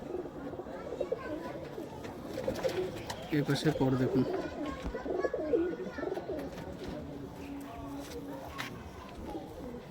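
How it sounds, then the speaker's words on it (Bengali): Pigeons in a home loft in Ranaghat, including tail-feathered fancy birds, coo softly and rustle restlessly in steady low murmurs, with someone talking over them throughout. "খুব ছটপট করছে পায়রা"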